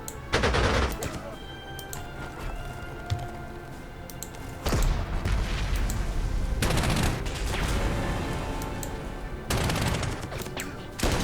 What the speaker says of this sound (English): Let's bomb you. And we'll go forward here and strafe you.